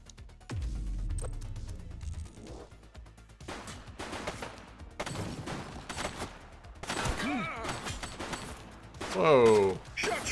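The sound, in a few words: gunfire in a police video game, The Precinct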